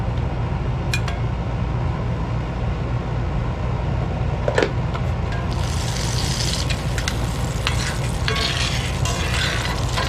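Butter sizzles steadily in a frying pan set just below low for scrambled eggs, with a few clinks of a utensil against the pan and the frying growing brighter partway through.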